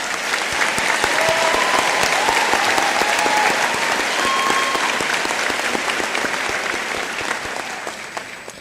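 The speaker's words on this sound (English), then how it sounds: "Let's give a round of applause to this outstanding group of students." Audience at a high school graduation ceremony applauding the graduating class, a long, loud, sustained burst of many hands clapping in a large venue that tapers off slightly toward the end, with faint crowd noise underneath.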